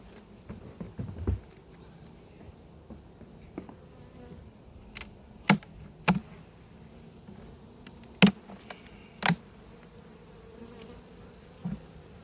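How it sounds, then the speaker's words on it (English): Honey bees in a colony being united late in the season at an apiary, a faint steady hum with a few sharp knocks and taps from handling the hive, no voices. "there's a lot of bees in there"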